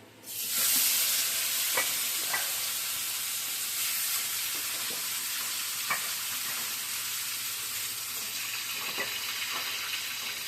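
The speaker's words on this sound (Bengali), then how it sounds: "এবার কচুর শাকটা দিয়ে দেবো।" Taro leaves hit a hot oiled pan with a sudden loud burst of sizzling, then keep hissing steadily while being stirred, with occasional scraping knocks of a spoon against the pan.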